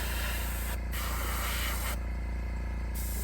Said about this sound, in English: We might just give it a little spray on the bottom.